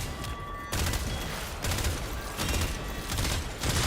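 Gunfire from shooting in the video game Warframe: several loud bursts of shots come in uneven clusters, separated by short lulls, close and forceful throughout.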